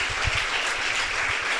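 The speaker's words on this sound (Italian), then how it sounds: "La salutiamo con un applauso" Audience applause at an Italian event, steady and dense, with many hands clapping continuously throughout and no talk over it.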